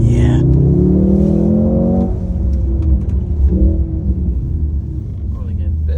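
Mercedes C63 S E Performance engine revs hard with a strong rising tone during a 360 spin at Mercedes-Benz World UK, then settles into a rougher rumble; voices talk over it.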